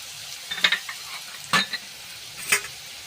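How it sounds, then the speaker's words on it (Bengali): Mixed vegetables stir-fried in a wok for village-style chow mein with turmeric and pepper, heard as a few scraping stirs and short sizzling bursts over a quiet background, with no talk. "এবার আমি ভালো করে নাড়াচাড়া করে নেব বেশ ভালো ভাজা হয়েই এসেছে"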